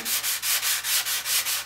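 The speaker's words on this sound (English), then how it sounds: "this stuff is super easy to sand" Hand sanding of easy-to-sand filler material on a homemade guitar body, a close, steady back-and-forth rasp in even strokes about five times per second, with no talking.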